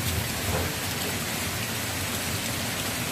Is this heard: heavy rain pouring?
yes